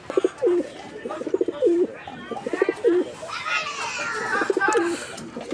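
Deshi Raj Golla and other pigeon breeds coo repeatedly in a close, rhythmic series of throaty rolling calls, with children's voices and talk in the background.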